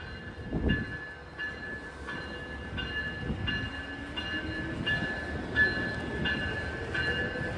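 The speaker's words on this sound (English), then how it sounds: "here's Capital Corridor train 543 departing 5 minutes early" A Capitol Corridor passenger train departs, with a steady run of evenly spaced high electronic beeps over the low rumble and clatter of the moving cars, close by and fairly loud.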